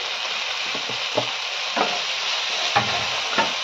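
Spice paste for a potol chingri (pointed gourd and prawn) curry sizzles steadily as it fries in a pan, with a few soft scraping stirs of the spoon breaking through the constant hiss.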